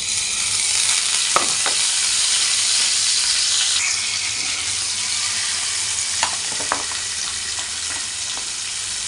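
Masala fries in hot oil in a pan for a fish besara curry, a loud, continuous hissing sizzle with a few scattered utensil clicks, slightly easing partway through, with no speech.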